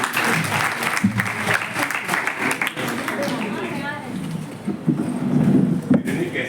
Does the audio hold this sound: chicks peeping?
no